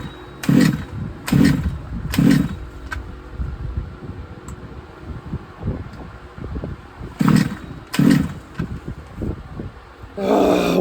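Redcat Chimera RC car engine, flooded, being pull-started: sharp bursts of the pull cord and sputtering engine in two groups, with rattling handling between them, close and fairly loud.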